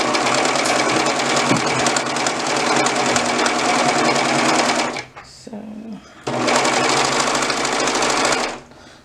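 A sewing machine runs steadily, stitching a garment toward the crotch point at the gusset. The loud whirring continues for about five seconds, pauses briefly while someone speaks quietly, then resumes for a few more seconds before stopping.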